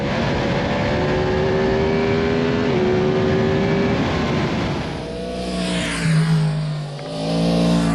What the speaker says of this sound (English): It's literally because Yamaha's proud of this cross-plane engine note